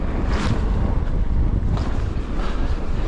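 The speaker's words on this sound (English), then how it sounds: "I am heading into the wind now, that's the only problem. Slows me down." Wind buffets the microphone while riding a mountain bike into a headwind, a loud, steady roaring rush with gusting swells and no voices.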